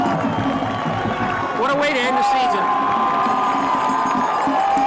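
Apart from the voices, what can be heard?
football fans cheering in the stands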